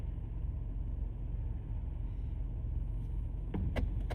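Road traffic in the UK, a steady low rumble of passing cars heard from nearby, with a few short sharp bursts near the end.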